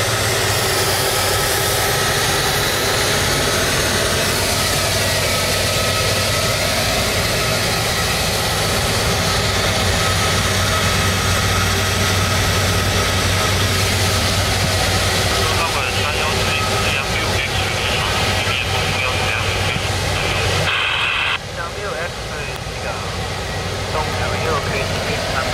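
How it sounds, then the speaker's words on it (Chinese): Sichuan Airlines Airbus A330 wide-body jet on wet ground after heavy rain, a loud continuous engine roar and rushing hiss close by, with a person speaking over it. "这个是四川航空的 A330 啊，是一个宽体客机啊。"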